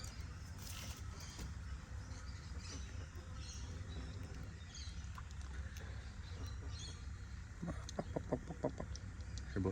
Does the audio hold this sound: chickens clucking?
yes